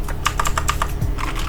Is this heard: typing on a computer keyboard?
yes